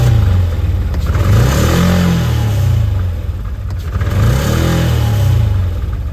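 A Can-Am Commander 800XT side-by-side engine revs loudly as the gas is pressed, rising and falling twice in a rough, clattering mid-pitched roar close by.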